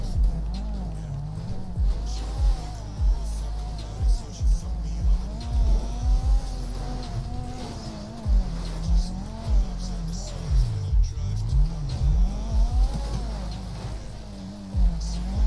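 Car engine climbing Mount Chiliad in a video game, revving up and down in repeated surges with occasional tire squeal, loud and near, with someone talking over it.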